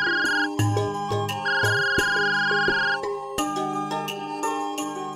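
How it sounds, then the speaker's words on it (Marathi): A mobile phone ringtone plays loudly and close, with a repeating melodic electronic tone pattern and no talk over it, in a household scene from a Marathi TV drama. "अगं फोन वाजतोय तुझा"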